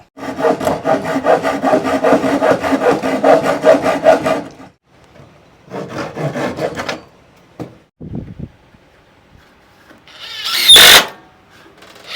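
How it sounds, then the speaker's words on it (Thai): A hand saw rasps through old pallet wood in quick back-and-forth strokes, a long run of cutting, then shorter bursts, a few knocks, and a sharp snap near the end. "เดี๋ยวเราใช้เลื่อยตัดเอาข้างบนเนี้ยนะครับ"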